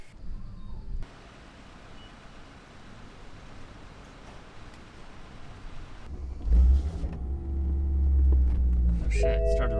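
BMW M3 tuned to run on E85 cranks over and fires up, a quiet hum giving way to a sudden low rumbling idle that settles into a steady drone, with a voice speaking nearby.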